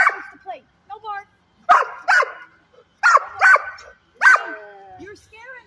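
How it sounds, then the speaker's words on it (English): A dog barks and yips in short bursts close by, several clustered barks with whimpering between, while people talk over it. "You bark too much."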